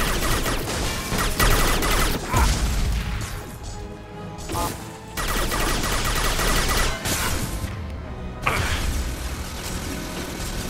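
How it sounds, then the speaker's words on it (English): Heavy impact-shot gunfire in the sci-fi shooter Mass Effect 2 rings out amid dense, loud combat noise, with crashing hits, mechanical clatter and repeated bursts running throughout. "Firing an impact shot!"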